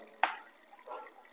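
Water from a pipe in a small demonstration of water pressure and depth gives one sharp, close drip, followed by a faint, brief trickle in a quiet setting.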